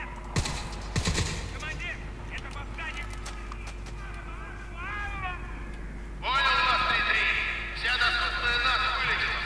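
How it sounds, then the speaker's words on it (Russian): Machine-gun bursts and gunfire from Crysis 3 play over a game soundtrack with alien and creature cries. Rapid firing rings out loudly from the middle onward while voices talk. "Это пулемет."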